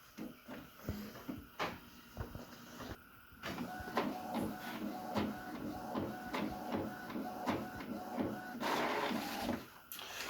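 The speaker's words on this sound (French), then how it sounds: "Hop, je vais faire une impression." An inkjet printer prints a page, even though its output comes out blank or blurry. Its mechanism runs with steady rhythmic clicking and whirring of the moving head and paper feed for about ten seconds at moderate loudness.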